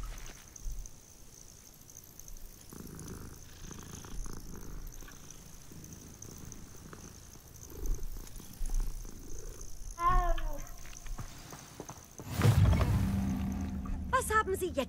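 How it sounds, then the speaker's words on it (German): A low, steady cat purr in Hogwarts Legacy rumbles in the background, with quiet game music and ambient tones; a brief loud burst near the end overtakes it. "Katze."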